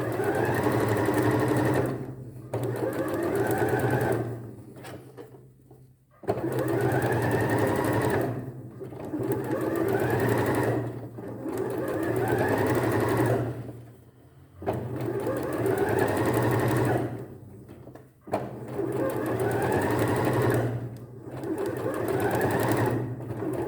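A sewing machine stitches the seam of a gathered sleeve with elastic, running close and steady in repeated bursts of rapid needle chatter, pausing briefly between runs with no talk over it.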